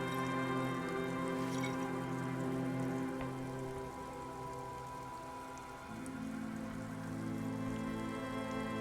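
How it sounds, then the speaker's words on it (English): Freezing rain in the video game Disco Elysium falls steadily and patters over a sustained musical drone, a constant even wash with no pauses. "He turns his swollen face against the wind, freezing rain battering his cheeks."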